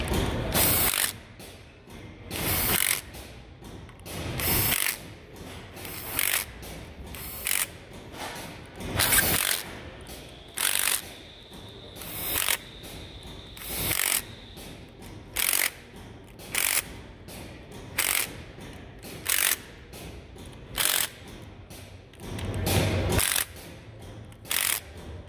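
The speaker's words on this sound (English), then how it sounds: "I go back and check it with a torque wrench" A torque wrench ratchets bolts tight on a Ford EcoBoost 1.5L engine block, with close, rapid clicking in short repeated bursts and brief pauses between strokes, no talking.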